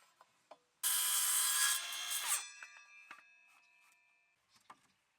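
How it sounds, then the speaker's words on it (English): Handsaw cutting an old decking board to fit a gate opening: a loud, close burst of rough rasping strokes that stops after about a second and a half, then scattered light knocks and clatters. "we managed to find another old decking board that I could cut to fit the opening"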